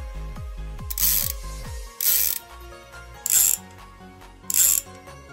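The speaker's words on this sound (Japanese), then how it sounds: "ラチット音が変わった。" A RECON aluminium bicycle sprocket cassette's freehub ratchet clicks in a rapid, close series, followed by several short bursts of buzzing whir as the wheel spins freely.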